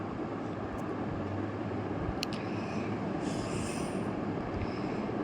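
A train rumbles past in a video game, a steady loud low roar of rolling wagons with brief metallic wheel squeals and clanks partway through, continuous for several seconds.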